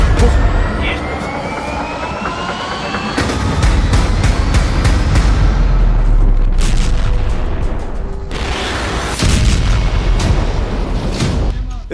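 Heavy booms and sharp blasts from a military exercise with tanks and explosions, repeated at irregular intervals over a continuous loud rumble, some sounding near and others more distant.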